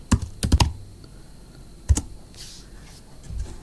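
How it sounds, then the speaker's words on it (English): Keys clatter on a computer keyboard as a command is typed, a quick cluster of close clicks followed by a lone later keystroke in a quiet room. "let me clear the screen and type ngSpice MOSFET.cir"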